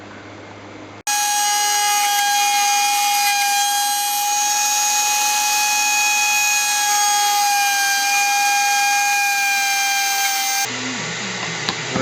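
A table saw set to an angle cuts cherry wood for a Chinese stool. A loud, steady, high-pitched whine starts abruptly, holds for about ten seconds, then drops away, with no voices.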